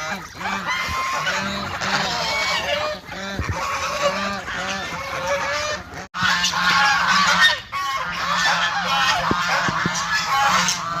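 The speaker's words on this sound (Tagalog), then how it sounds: "gutom na kasi kaya ganyan nasa lubong na ayun o yung mga gansa" A flock of hungry geese honks loudly and repeatedly, close by, in a dense overlapping chorus with a short break midway.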